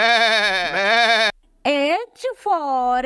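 Goat bleating in a children's phonics song, with two long wavering bleats separated by a short gap, loud and close, plus a brief squeak in between.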